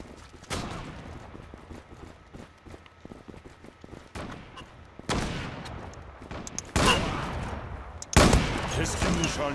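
Sniper rifle gunfire in the online shooter Zula, several sharp loud shots spaced a second or two apart, each with a ringing tail, over quieter game noise and footsteps.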